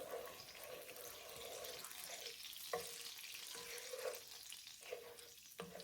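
Six tablespoons of butter melting in a pan for gravy, giving a soft steady sizzle with faint crackles and a few small pops and clinks, heard close and alone.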